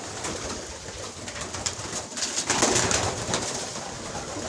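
Pigeons coo in soft, rounded calls, several birds overlapping close by, with a brief flurry of louder cooing partway through.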